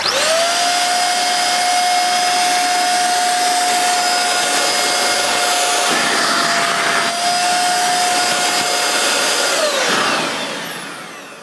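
A Hoover Jovis 550 watt corded handheld vacuum cleaner runs with a loud, steady high-pitched whine and airy rush, pitch wavering slightly as it is pulled front to back, then winding down at the end.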